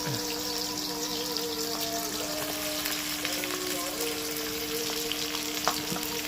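Large batch of sliced onions, about half a kilogram, frying steadily in a pan over a wood fire until deep red-brown, with a continuous close sizzle, light stirring and a few faint clinks.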